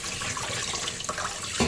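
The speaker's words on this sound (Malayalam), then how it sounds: "ഇനി ലാസ്റ്റ് ഒരു വെള്ളം കൂടെ കഴുകിയിട്ട് നമുക്ക് ഉപയോഗിക്കാം." Running water from a tap splashes steadily over goat head meat held in a strainer, a loud continuous gush with a brief louder surge at the end and no talk.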